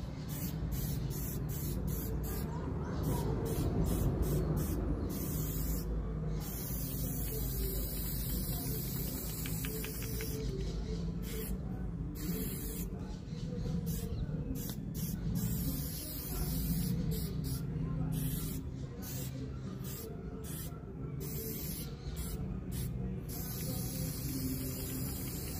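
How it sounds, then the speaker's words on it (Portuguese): Graffiti spray painting with Paris 68 spray paint and a Banana Skin cap, hissing in repeated bursts of varying length over a steady layer of background music for most of the clip. "E estou usando a tinta spray Paris 68. E também estou usando o cap Banana Skin."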